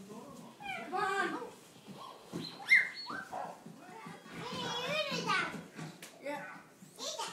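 A voice makes a run of barking, yelping noises in imitation of a dog, with bursts of playful vocalizing and some speech-like sounds mixed in.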